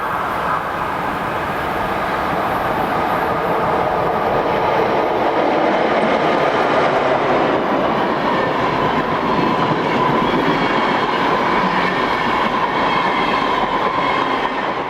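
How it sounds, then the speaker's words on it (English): A green Swiss Re 6/6 (Class 620) electric locomotive hauls a through train from Germany on the Gotthard route, with a loud, continuous roar of wheels and rolling stock passing close by throughout. "this green Re66 heading a through train from Germany"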